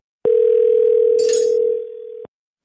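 A steady telephone dial tone sounds loud and close for about two seconds while a call is being placed, then cuts off abruptly with a slight drop in level near the end.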